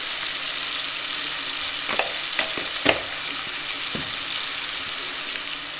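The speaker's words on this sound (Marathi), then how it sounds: "असं मस्तपैकी भाजून घ्यायचं" Tomatoes fry in a pan for a village-style katachi amti, with a constant, even sizzle and a few distinct knocks and scrapes as a spoon stirs them.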